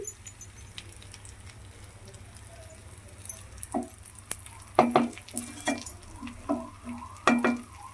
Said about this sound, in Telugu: వంకాయలన్నిటినీ ఇట్లాగా ఆ మసాలా పట్టేలాగా పైన కూడా ఇలా తిప్పేసుకోవాలండి